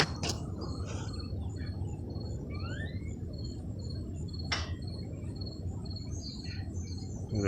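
A bird near its nest in a house gives a few thin, scattered chirps and short rising calls over a steady rushing background.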